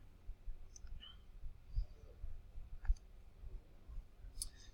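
Quiet, sparse clicks of fingers pressing calculator keys during a maths lesson, a few soft taps spread out unevenly against faint room background.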